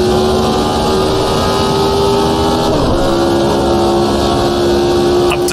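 A Lotus 72 race car in the Automobilista 2 racing game on a Long Beach street circuit, its engine roaring loud and steady from start to finish, with a brief change in pitch as a gear shifts partway through.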